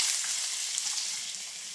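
Chopped onions sizzle steadily in hot oil for a bitter gourd tamarind curry, a close, even hiss with no talk.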